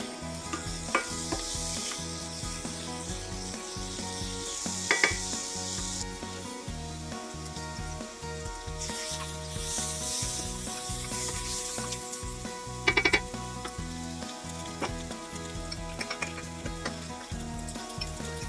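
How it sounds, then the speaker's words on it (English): Onions cook for beef stroganoff in a pan, with a steady close sizzle and frying hiss throughout, broken by repeated scraping and clinking stirs, with a couple of sharper knocks. No one speaks. "The first step is to cook the onions until they're beginning to brown."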